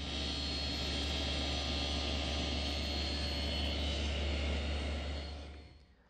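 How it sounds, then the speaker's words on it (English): A router or milling cutter cuts cheeks on wooden tenons for a Shaker wall clock, a loud steady whirring drone that holds constant and then winds down at the end. "there's one more milling operation on the tenons, and that's to make the cheek cuts."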